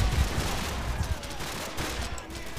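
Gunfire in Call of Duty 4, a dense rattle of overlapping shots and booming low thuds packed into a couple of seconds, loud and continuous.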